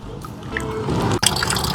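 Tap water at an outdoor washing spot runs and splashes as a face is washed, a close liquid trickle and dribble with one sharp drip or slap midway, no talking.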